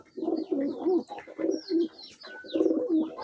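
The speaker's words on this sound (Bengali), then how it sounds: "সামনে নর কবুতরগুলো কীভাবে ঝগড়া লাগছে" Male pigeons fighting coo close by in repeated throaty bursts, several rolling calls in quick succession, with faint higher chirps between them.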